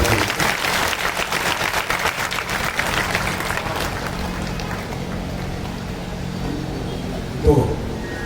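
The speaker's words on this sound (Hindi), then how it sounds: "एक बार तालियां हो जाए जोरदार बच्चों की।" Loud applause for children at a Ram Katha religious gathering, dense clapping at the start that gradually thins and fades, with a faint bump near the end.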